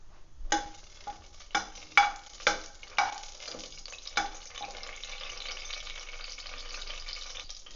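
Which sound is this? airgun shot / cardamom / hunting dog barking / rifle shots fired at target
cardamom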